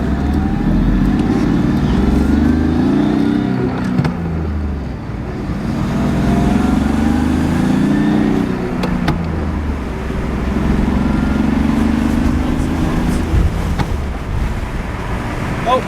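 Exhaust of a BMW E36 drift car on the move: a loud, raspy drone that rises and falls with the throttle, mixed with heavy road and wind noise and no clear speech.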